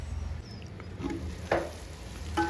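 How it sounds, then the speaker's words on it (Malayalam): Garam masala and other spice powders heat in a pan for crab curry, giving a low, steady sizzle with a few soft stirring scrapes and brief bursts of crackle, close and moderately quiet. "നല്ലോണം ഒന്ന് ചട്ടിയിലിട്ട് ചൂടാക്കി എടുക്കുക."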